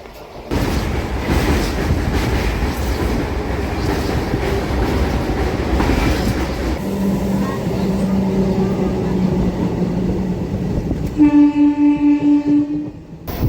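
A MEMU passenger train runs from Renigunta toward Nellore with a loud, steady rumble and rattle heard from inside, ending with a sustained horn blast near the close.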